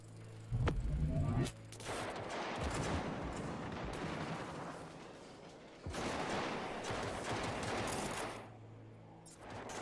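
Turret fire in Cyberpunk 2077, a sustained rattle of rapid shots under a low mechanical hum, breaking off briefly midway and then resuming, moderately loud against a busy background.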